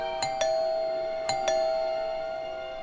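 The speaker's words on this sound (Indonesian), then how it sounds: "Dengan panik, Bayu langsung menekan bel," A hospital call bell pressed to summon the duty nurse gives two ding-dong chime pairs, each with a sustained ringing tone that decays slowly, clear and alone.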